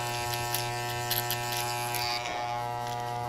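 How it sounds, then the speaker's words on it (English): Electric hair clippers with a single guard buzzing steadily and close while finishing a skin fade, a continuous hum with slight shifts as the blade works the hair. "I'm just finishing out the fade with this one guard on right now"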